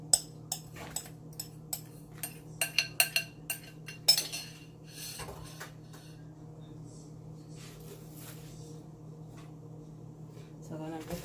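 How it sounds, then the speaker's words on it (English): Spoon clinking against a bowl while brown sugar is mixed into the dry ingredients for a Jamaican sweet potato pudding, a quick run of close, sharp taps over the first four seconds, then a soft scraping stir with a low steady hum. "So I'm gonna mix up all of these dry ingredients together."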